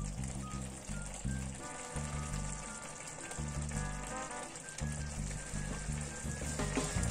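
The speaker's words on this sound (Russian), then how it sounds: "И пусть они тут хорошенько побулькают." Meatballs simmering in a tomato soup pot, a steady soft frying-like sizzle and bubbling throughout, with faint kitchen music or tones layered underneath.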